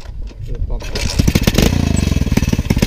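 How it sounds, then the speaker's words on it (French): A Peugeot 103 moped fitted with a 125cc Dax engine starts up close by, coughing to life after a brief crank and settling into a loud, rapid, pulsing idle beat. "Willy va nous démarrer quand même, qu'on profite du bruit de ce moteur."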